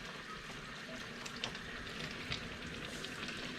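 Shrimp fry in a pan while cooking Ghana-style rice and stew, giving a quiet, continuous sizzle with faint pops and crackles and no talking.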